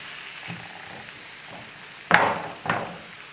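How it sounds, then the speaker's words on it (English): Tomatoes, garlic and scallions sizzling in a pot as they are stirred, a low hiss broken by two loud scraping stirs close by. "Next, I'll stir in the tomatoes and the garlic and a little bit of the scallions"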